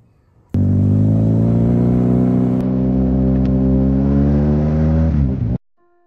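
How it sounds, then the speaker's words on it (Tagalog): Motorcycle engine running steadily under load with a strong low harmonic drone, loud and close, starting abruptly and cutting off near the end; no talking. "Habang tumatakbo tong motor, ang daming pumapasok sa isip ko."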